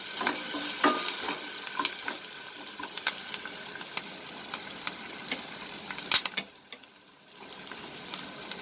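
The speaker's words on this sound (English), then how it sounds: "the green chilies, and we will mix it and cook for another second" Onion chicken with green chilies is stirred in a hot pan, with a steady close sizzle of frying under repeated scraping strokes that briefly pause near the end; no voices.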